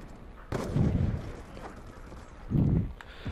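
Ballista sniper rifle shots in a Call of Duty-style shooter, two heavy booming reports about two seconds apart, each with a rumbling tail, fairly close and loud with no voices over them.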